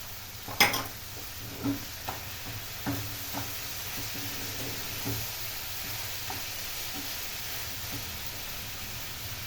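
Chicken liver sauté with vegetables, onion and canned garlic frying softly in a pan: a faint, even sizzle with a few light utensil taps near the start, then quieter stirring.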